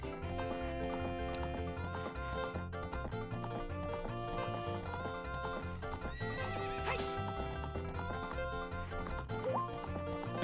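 A horse in the video game Ocarina of Time whinnies amid steady hoof clip-clops, mixed with bright in-game music throughout, fairly quiet with no talk.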